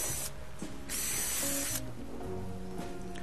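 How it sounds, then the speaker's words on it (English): A power drill boring through stacked wooden boards while building a scuba tank rack, close up, with bursts of high whine and grinding broken by short pauses and clicks. "So we're going to drill through here,"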